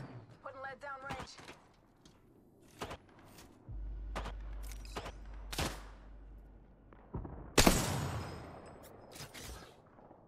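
Gunfire in the Apex Legends video game: sharp single shots spaced through the clip, then a louder, denser volley near the end, with a voice talking over parts of it.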